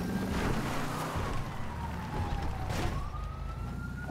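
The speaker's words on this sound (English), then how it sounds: "Why can I just keep hearing sirens?" A wailing police siren in FiveM, a GTA V roleplay server, rises and falls over a steady rumble of game engine noise, continuous and fairly prominent throughout.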